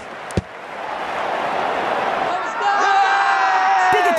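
A video-game stadium crowd in Cricket 19 roars and cheers in a steady loud wash after an IPL shot, with a sharp thump near the start and a whistling tone rising later.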